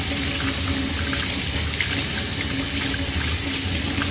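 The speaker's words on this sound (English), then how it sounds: "And use cold water kind of clean out that internal cavity." Cold tap water runs steadily into a sink while a freshly descaled, gutted fish's body cavity is rinsed clean, a continuous close splashing hiss with no talking.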